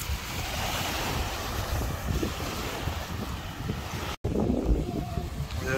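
Surf rolls steadily onto a beach at Phu Quoc, Vietnam, a continuous wash of waves blended with strong wind buffeting the microphone, with a brief dropout near the end before the roar resumes.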